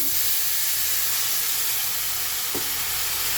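Water poured into a hot wok of grated coconut for sugar coconut laddoos sets off a steady, loud sizzling hiss that fills the clip, with a brief sharper crackle near the end.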